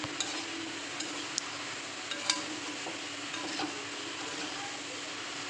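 Potatoes and pointed gourd stir-frying with masala in a pan, a quiet continuous sizzle broken by occasional light clinks and scrapes of a spatula.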